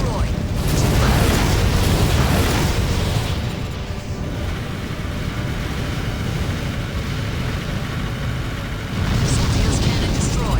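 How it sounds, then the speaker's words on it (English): Soldios cannon explosion in the Armored Core: For Answer video game, a loud booming burst early on and another near the end, set in constant roaring mech combat noise. "Soldios cannon destroyed. 2 left."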